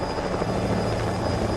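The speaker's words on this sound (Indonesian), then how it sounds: "Bukan sebuah helikopter penyelamat yang datang, melainkan itu dikirim untuk menghabisi mereka." Loud helicopter rotor chop with a steady engine whine, a continuous close pulsing thrum filling the short stretch with no voices.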